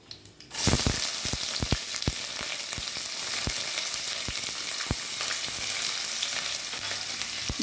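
Sliced onions with cardamom and cloves fry in hot oil, hissing steadily, while a utensil occasionally scrapes and taps against the pan in an irregular rhythm, close up, with no talking.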